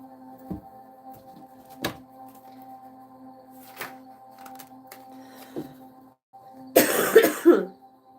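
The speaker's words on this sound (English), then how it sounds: "Sorry about the coughing." A quiet room with a few faint knocks and clicks, then a loud burst of coughing near the end.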